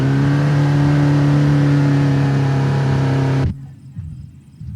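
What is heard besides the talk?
car engine hydro-locking in water, from BeamNG.Drive video game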